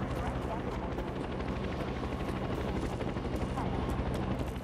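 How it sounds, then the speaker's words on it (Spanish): Helicopter in the video game Infamous Second Son, a loud continuous rotor thump and engine roar filling the whole stretch with rhythmic chopping pulses, close and steady. "Cabrón, helicóptero."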